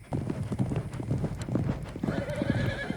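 Rapid, rhythmic thudding of galloping horse hooves from the 1979 film The Black Stallion, close and continuous, with a horse's whinny and snorting breaths near the end.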